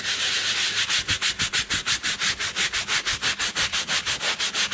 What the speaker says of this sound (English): we're gonna start scrubbing in